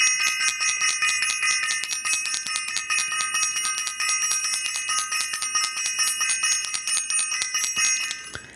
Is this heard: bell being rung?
yes